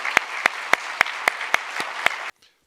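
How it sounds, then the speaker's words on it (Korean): A church congregation applauds to welcome a pastor at a midweek service: a steady wash of clapping marked by sharp, evenly spaced louder claps, ending abruptly into near silence. "뜨겁게 우리 환영하고 하나님께 영광의 박수를 드립니다."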